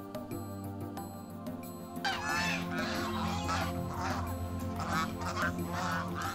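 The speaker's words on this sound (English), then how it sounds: "the geese call out to everyone to head down to the lake" A flock of geese and ducks honk and quack together, a busy, overlapping chorus of calls that grows louder after the first couple of seconds.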